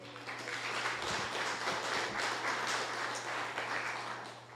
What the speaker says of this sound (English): let's give a round of applause to Councilwoman Lambert as well for her remarks earlier